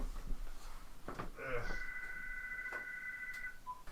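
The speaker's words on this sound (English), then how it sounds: "Ah, stupid phone." A phone rings with a single sustained electronic tone lasting about two seconds, partly under a voice and some clicks and shuffling nearby.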